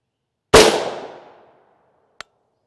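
A single loud rifle shot cracks out at a Tacticon Level III+ steel armor plate downrange, its sharp report decaying over about a second, followed by one faint distant metallic tick of the bullet striking the steel.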